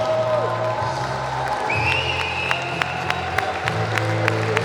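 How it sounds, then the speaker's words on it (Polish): Crowd applause and cheering at the closing ceremony of the Dragon Tournament youth football Champions League, honouring the KS Rakowice team; steady clapping mixed with a steady hum and a few sharp cracks and whistles. "a tymczasem olbrzymie oklaski"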